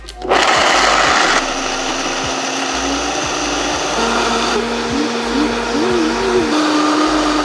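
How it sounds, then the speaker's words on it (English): A countertop blender whirs through vegan cheese sauce, starting with a loud motor burst and then running steadily as the pitch climbs through the speed settings toward high, close and continuous. "we're gonna blend it for about a minute or so. My blender has a lot of settings, but I'm gonna start on low, go to medium, and then end up at high"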